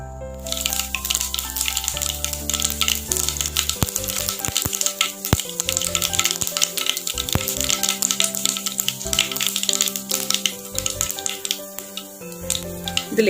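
Mustard seeds popping in about two teaspoons of hot oil in a cheenachatti pan, a dense stream of sharp crackling pops over a continuous sizzle, up close, with background music playing throughout.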